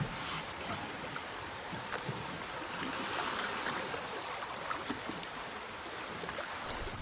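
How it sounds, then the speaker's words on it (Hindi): Oars dip and pull through water in a steady, continuous wash of splashing and swirling, with no voices, at a moderate level throughout. "चप्पू पानी के अंदर।"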